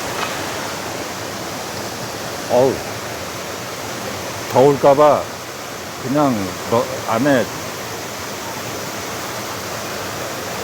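Steady broadband rush of a creek flowing continuously, with someone talking intermittently over it.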